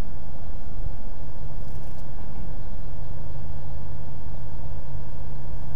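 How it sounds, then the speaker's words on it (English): Steady, smooth drone of a Rotax 912iS engine heard from inside the cockpit of a Zenith STOL CH 75 in flight, loud and constant with a low hum and no voices. "the Rotax just sounds so nice, very smooth"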